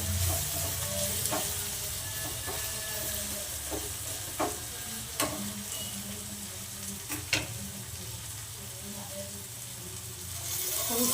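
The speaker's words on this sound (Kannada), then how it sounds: "ಅದು ಸ್ವಲ್ಪ ಫ್ರೈ ಆದಮೇಲೆ ಹುಣಸೆ ಹಣ್ಣು ಕಲಸಿಟ್ಟಿರೋದು ಹಾಕ್ತೀನಿ ನಾವು" Kannada bisi bele bath tempering sizzles in a pan as tamarind water goes in, a steady frying hiss with a few sharp stir clicks, close and moderately loud, without speech.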